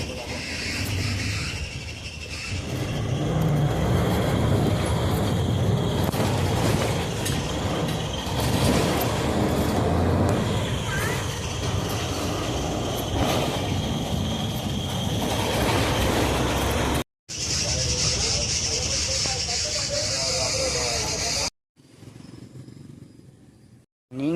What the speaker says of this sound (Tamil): சரியான ஆட்டம் ஆடுது பஸ்ஸு.